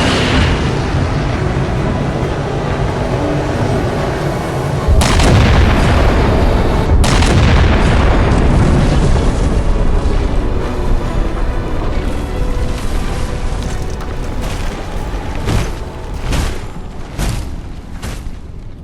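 Heavy artillery strike explosions in the Xbox 360 game Halo 4, a loud sustained barrage of booming blasts with sharp impacts near the five- and seven-second marks, rumbling continuously without speech.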